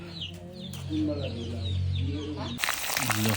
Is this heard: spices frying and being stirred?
no